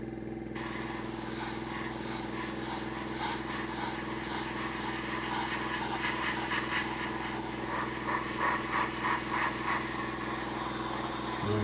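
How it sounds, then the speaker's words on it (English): An airbrush sprays thin layers of Mission Models paint with a steady, close hiss over a constant mechanical hum, running unbroken throughout. "You see, the spray is very thin."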